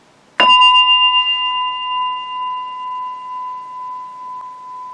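A steel target struck by a rifle round, the rifle fitted with a muzzle brake, rings out with a sharp metallic hit, then a clear bell-like tone that sustains and slowly fades for several seconds, alone.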